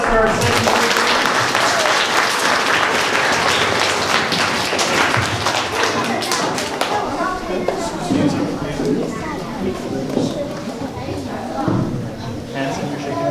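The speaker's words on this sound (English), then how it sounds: "Let's give a nice round of applause for our second speaker." A school audience claps for a young speaker after a play performance, a loud sustained round of applause that thins out in the second half, with voices chattering underneath.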